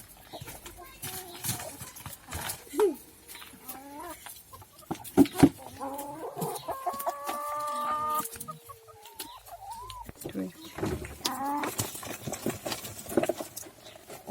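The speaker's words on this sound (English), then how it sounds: "chickens are getting excited already" Several chickens cluck and squawk close by in irregular bursts, with scratching and shuffling sounds around them.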